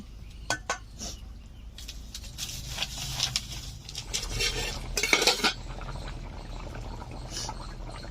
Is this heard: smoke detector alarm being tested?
no